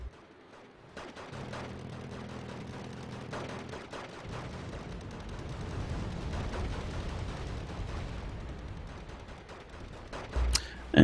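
Tornado jet attacking air defenses in Wargame Red Dragon: a sustained roar of gunfire and rumbling blasts with a low engine drone, ending in a sharp loud burst.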